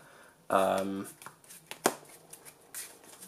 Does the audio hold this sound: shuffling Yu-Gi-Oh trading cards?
yes